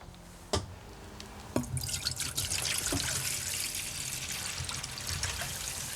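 Water pours into a cooking pot in a home kitchen, a steady trickling splash that follows a few sharp drips and runs on alone for several seconds.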